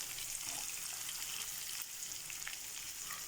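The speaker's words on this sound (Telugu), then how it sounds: "బీరకాయ ముక్కలన్నీ వేసేస్తాను." Pieces of ridge gourd drop into a hot pan with onions for a traditional ridge gourd curry, setting off a steady, close hiss of frying that continues evenly without any talking.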